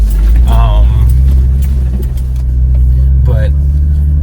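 A Jeep's engine runs with its lockers engaged while crawling the rocky Hackett Gulch Trail in Colorado, a steady close low drone that holds throughout, with brief muffled voices rising over it.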